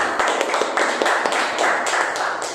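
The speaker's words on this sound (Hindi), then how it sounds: "तो क्यों ना हम परमेश्वर के नाम को ऊंचा उठाने के लिए ताली बजाए," A church congregation claps hands together in a steady, fairly rapid rhythm, a bright continuous patter of many hands at moderate loudness, with a voice faintly mixed in.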